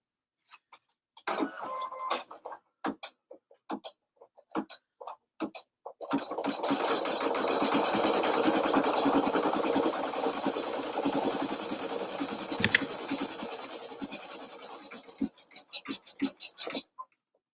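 An embroidery machine stitches a name, starting with scattered taps and short bursts before settling into a continuous fast rattling hum for about ten seconds, then breaking back into intermittent stitches and pauses.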